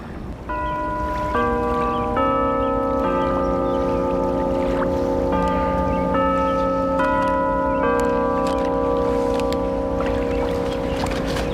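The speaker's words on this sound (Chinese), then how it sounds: "这钟声，我们从小听到大的" Bells toll steadily and loud, their long ringing tones overlapping and sustained throughout with no talk.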